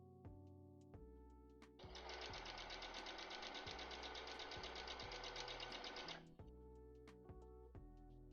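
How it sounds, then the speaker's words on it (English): Sewing machine stitching paper origami moths, a steady rapid mechanical whirring for about four seconds, faint and alone amid a soft rhythmic ticking background. "We're just gonna sew these all up."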